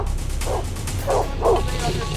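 A dog barks and yelps in sharp bursts at a charging wild boar during a hunt. The cries come in short, loud, close outbursts over rough background noise.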